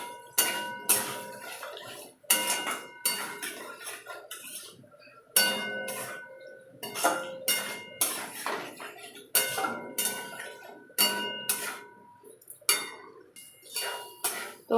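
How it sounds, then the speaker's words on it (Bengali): Fried potatoes stirred with spices in a pan, a metal spoon clinking and scraping against the pan in repeated uneven strokes, close and fairly loud, no talking. "আলুটাকে দিয়ে মশলার সঙ্গে ভালো করে মিশিয়ে নেব আর 1 মিনিটের মতো কষিয়ে নেব।"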